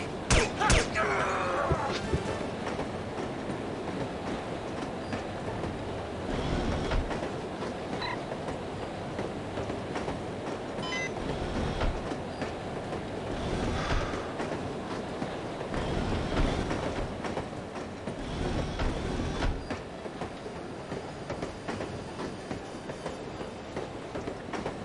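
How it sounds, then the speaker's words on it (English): A train ride in the No One Lives Forever video game, with a steady loud rumble of rolling rail cars and rhythmic clatter filling the whole stretch, swelling slightly at intervals. "I love riding the train."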